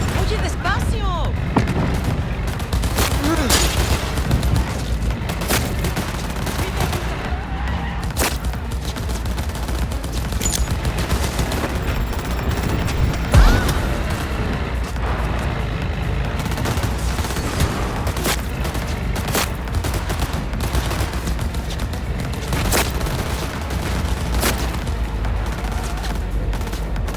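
Dense, continuous gunfire and booming blasts from a Cyberpunk 2077 Phantom Liberty firefight, loud and unbroken throughout, with shouted voices mixed into the chaotic battle.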